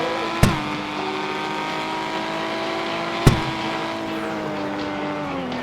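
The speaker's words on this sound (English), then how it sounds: "with the addition of more realistic tires, you get more realistic wheel spin" Racing video game car droning with steady engine tones and a shifting pitch as the wheels spin, broken by two sharp bangs, one early and one just past the midpoint.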